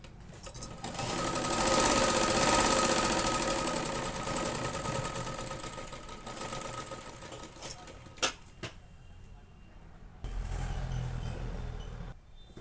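A domestic sewing machine stitching pieces of a katori blouse, running in a fast continuous whir that trails off, then a few clicks and knocks before a second short burst of stitching.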